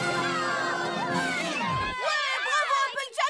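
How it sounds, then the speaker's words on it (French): A cartoon crowd of ponies in a French-dubbed My Little Pony episode cheers and shouts in excited, overlapping voices, rising then dropping away before a few more scattered cries near the end. "Applaudissez Applejack!"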